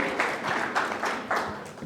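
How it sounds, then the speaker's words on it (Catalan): Audience applause for a volunteer at a cosmology talk, a short burst of steady clapping lasting under two seconds, with no talk over it. "Un aplaudiment molt fort per la Sílvia"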